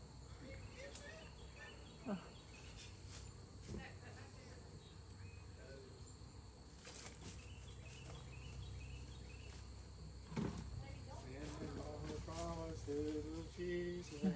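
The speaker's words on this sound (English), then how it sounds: "because the bees are right there flying" Honeybees fly around a swarm trap outdoors, a steady close buzzing drone that runs through the whole stretch, with background insect chirping and brief voices near the end.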